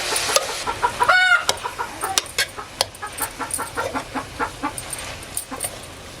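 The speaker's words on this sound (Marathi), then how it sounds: "त्या ब्लॅकीला बघूनच कोंबडी ओरडतात" Hens cluck repeatedly in short, choppy bursts close by, with a brief high squawk early on and scattered sharp knocks, no talking.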